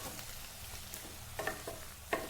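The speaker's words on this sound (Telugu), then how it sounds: "ఒకసారి మిక్స్ చేసుకుందామండి." Carrot fry being stirred in a pan, with several scraping stir strokes over a soft, steady background sizzle of oil, the sharpest scrape near the end; no talking.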